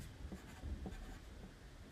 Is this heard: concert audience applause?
no